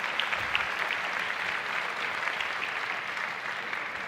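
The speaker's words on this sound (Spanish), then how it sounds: "Give a little clap offering." A church congregation claps together in a steady, dense round of applause that holds at an even level for the full stretch, with no pause or fade.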